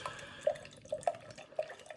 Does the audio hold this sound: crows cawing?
no